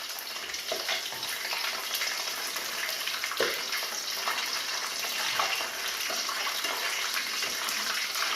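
Battered pieces for a chickenless mock drumstick snack bubble and crackle in hot oil, a steady, close sizzling hiss with scattered pops and spits, with no talking.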